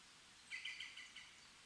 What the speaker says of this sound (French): J'entends l'oiseau, bien sûr,